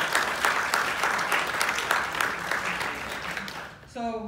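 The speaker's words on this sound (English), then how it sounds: "So give yourself an applause" Applause from a gathered crowd celebrating a court victory for the West Berkeley Shellmound, a dense sustained clapping that fades near the end as a voice begins speaking.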